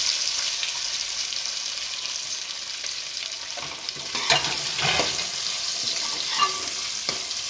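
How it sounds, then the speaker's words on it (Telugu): Cut boiled egg pieces fry with biryani spices in a pan for egg paneer pulao: a steady hiss of sizzling oil, with a few soft stirring scrapes in the second half. "కట్ చేసుకున్న పీసులు ఇందులో వేసుకుని ఫ్రై చేసేసుకోవాలి"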